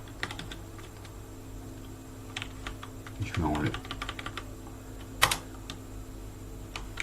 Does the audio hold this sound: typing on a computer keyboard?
yes